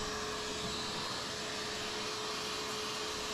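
A vacuum cleaner runs with a steady, loud, close whine while sucking dust from a furnace cabinet during condensate pump replacement, continuous throughout with no talking.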